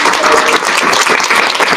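A crowd claps at a spelling bee, a short loud burst of dense applause from the audience, steady across its brief length.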